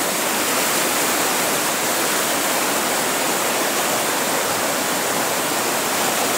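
Floodwaters of the Razdolnaya river near Pokrovka rushing past, a loud, unbroken roar of flowing water that stays constant from start to finish.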